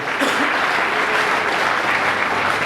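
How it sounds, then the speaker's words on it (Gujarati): An audience at a Ram Navami festival gathering in Surat claps steadily to welcome a guest, a dense, even round of applause throughout. "તાળીઓના ગડગડાટથી એમને વધાવી લઈએ"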